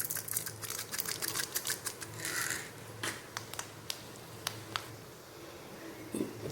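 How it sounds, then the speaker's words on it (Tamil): Mustard seeds splutter in hot coconut oil, a run of sharp, irregular pops and crackles heard near and soft, the bursts thinning out toward the end. "கடுகு நல்லா பொரிஞ்சிருச்சு."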